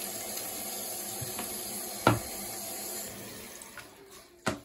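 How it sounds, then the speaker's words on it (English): A toilet tank refilling after its float valve was swapped: a steady, fairly quiet hiss of water flowing in, broken by a couple of sharp clunks. "we're just gonna wait for that to fill up, and then we're gonna do a test flush"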